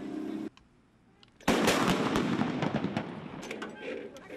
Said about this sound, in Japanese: 4月に入隊した新隊員が訓練で学んだ射撃の動作を上官の前で披露し